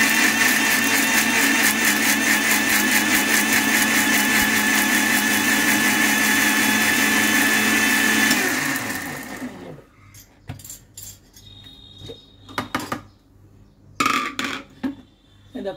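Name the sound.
blender blending apple and pomegranate paste with water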